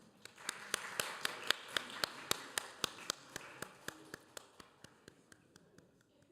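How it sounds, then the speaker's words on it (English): A single pair of hands claps a steady, even rhythm of about twenty crisp claps, close and fairly quiet, fading slightly toward the end, to welcome panel speakers at a peace conference. "Let's invite them up with a warm round of applause"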